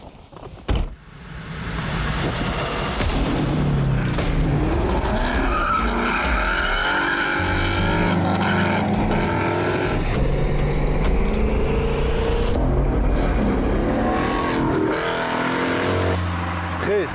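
A Ford Mustang with a six-speed manual gearbox drives hard, its engine roaring loud and steady while tires skid and squeal across most of the run with no pauses.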